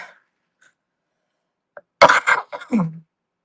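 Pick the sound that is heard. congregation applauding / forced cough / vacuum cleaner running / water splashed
forced cough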